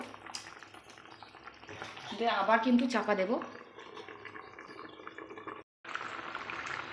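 A paneer and egg curry bubbles in a covered pan, a steady moderate simmer with a louder rolling boil for a moment, heard under someone speaking Bengali throughout.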